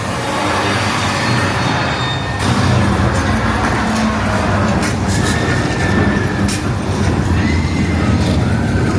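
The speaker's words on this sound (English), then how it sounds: "I think the subway is still running." A Los Angeles subway train near Universal Studios Hollywood rumbles loudly and steadily nearby, with rattling and faint squealing wheels over a continuous roar.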